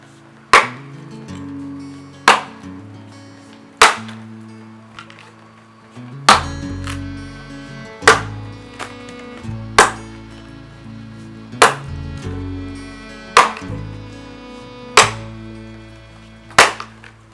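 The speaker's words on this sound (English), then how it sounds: "I'm just going to have some fun chopping this log" Ten sharp camp axe chops strike a log at a steady pace, each a loud crack followed by a short ringing tail, with low hum between strikes.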